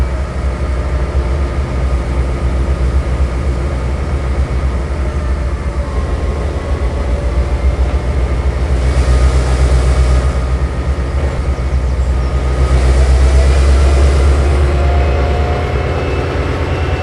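Locomotive hauling cargo wagons in Train Simulator throttles up and gathers speed, a steady loud engine drone and rumble that swells slightly toward the end, with no voices.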